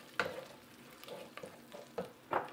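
Spices of leek, onion and garlic are stirred into a sizzling sauce on the stove, with several distinct scraping stirs and bursts of sizzle at irregular intervals over a low frying hiss.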